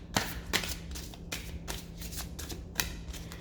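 Tarot cards shuffled by hand in a quiet room, several crisp riffling bursts in an uneven rhythm, close but fairly soft, with no one speaking.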